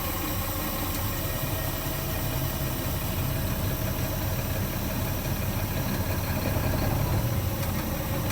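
Semi tractor diesel engine idling steadily during a brake test as the clutch is depressed and first gear selected, a continuous low rumble with even vibration throughout, close by and with no voices.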